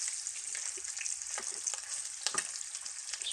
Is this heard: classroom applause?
no